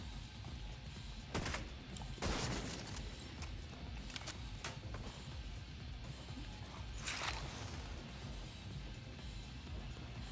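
Gunfire in the video game The Division 2, several sharp bursts and single shots at irregular intervals over a steady low rumble of game ambience, fairly quiet overall.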